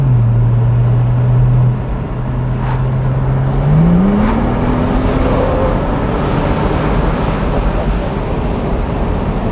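A 2010 Porsche 997 Turbo Cabrio with 500 hp accelerates hard while overtaking, its engine a loud sustained drone that climbs in pitch over steady road and wind roar heard from inside the car.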